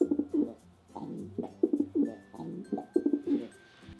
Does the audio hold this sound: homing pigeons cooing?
yes